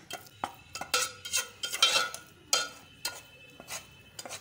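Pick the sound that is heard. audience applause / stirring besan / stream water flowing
stirring besan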